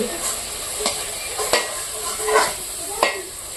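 Puris made from wheat flour frying in darkened hot oil, giving a steady sizzle with several sharp spoon or ladle clinks against the pan.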